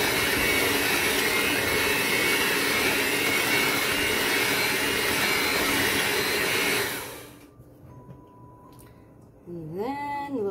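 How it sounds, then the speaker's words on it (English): A handheld mixer whirs loudly and steadily for about seven seconds while cookie dough is prepared, then winds down and stops, leaving a quiet kitchen and a few faint tones. "if you have a handheld mixer,"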